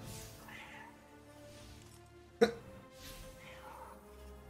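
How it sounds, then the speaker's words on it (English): A cat-shaped ghost companion in Destiny 2 gives a short meow over low game music, with one sharp click partway through and quiet ambience around it. "I never knew that the cat ghost, like, meows at you."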